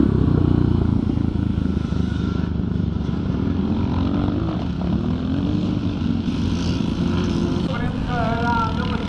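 Classic scramble race motorcycles drone past at a revival event, a steady mix of engines that rises and falls in the middle distance while a commentator talks over them throughout.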